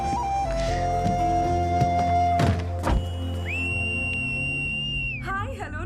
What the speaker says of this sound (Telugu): ఏంట్రా ఈ పిల్ల రౌడీలాగా విజిలేస్తుంది?